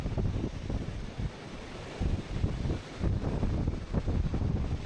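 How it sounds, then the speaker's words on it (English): Strong gusts buffet the microphone in a constant, loud low rumble that swells and dips irregularly, with no other clear sounds coming through. "It's windy. Really windy."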